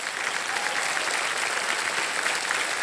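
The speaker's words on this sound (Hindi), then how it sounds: "तालियां बज जाएं जोरदार" Studio audience at a Hindi TV quiz show breaks into steady, dense applause, loud and continuous throughout without any clear voices.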